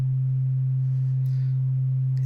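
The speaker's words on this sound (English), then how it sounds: "it's the same sine wave" A synthesizer playing a pure low sine wave built from two oscillators with fixed phase, one steady loud unchanging hum held for the whole stretch, with a faint click near the end.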